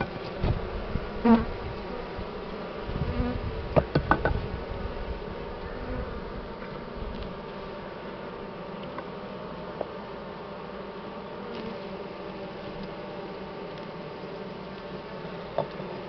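Steady, dense buzzing of many Buckfast honeybees in a hive close by, a continuous droning hum with a few brief knocks and rustles near the start.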